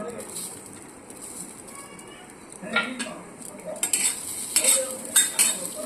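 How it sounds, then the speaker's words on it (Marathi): Sweet corn being tossed in a pan with garlic, ginger and green chili, with spoon scrapes and clinks against the pan over a faint sizzle, becoming louder and more frequent in the second half. "आता आपल्याला स्वीटकॉर्न हे टॉस करून घ्यायचे आहे त्यासाठी मी टाकणार आहे लसूण आलं आणि मिरची"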